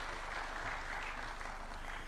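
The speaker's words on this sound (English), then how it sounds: "We can clap for him as he's coming." Steady, dense applause from a crowd welcoming Kenya's President at a University of Nairobi launch event, continuous and even throughout with no pauses.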